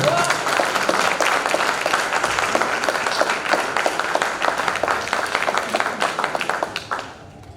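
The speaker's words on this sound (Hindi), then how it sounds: "एक बार अंतर मन से ताली बजा दीजिए।" An audience at a poetry recital gives sustained, dense applause from many hands, steady and loud for about seven seconds before tapering off at the end.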